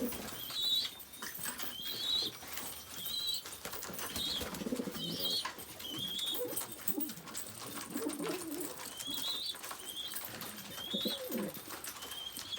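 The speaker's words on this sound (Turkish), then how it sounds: "Damızlık kuşları bunlar." Breeding pigeons in a coop at night give soft repeated coos at regular intervals, with faint shuffling and wing rustles nearby, no speech.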